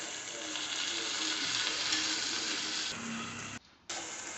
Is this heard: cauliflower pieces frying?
yes